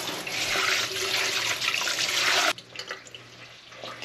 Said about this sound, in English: We're gonna just rinse these off.